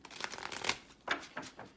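Tarot cards riffled and shuffled in short rustling bursts, several quick flurries of papery flicking close by with brief pauses between.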